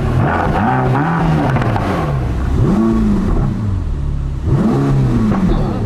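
A 2022 Mercedes-AMG GT Black Series, a 730 PS supercar in Sport Plus mode, revved with the throttle: three loud, close engine swells rise and fall over a constant deep idle rumble.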